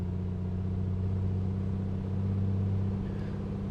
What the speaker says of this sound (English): let me go up to 2000 RPM and do my normal run-up check